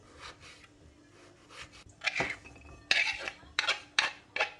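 A knife chops potatoes into thin matchstick strips on a cutting board, giving sharp, irregular taps that grow louder and more distinct toward the end.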